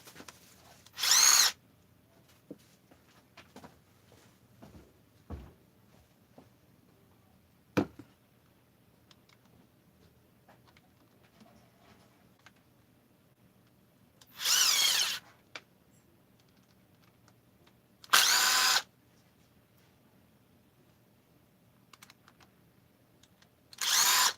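A power drill backs screws out during final assembly of a 262xp, in four short loud whirring bursts separated by long quiet gaps.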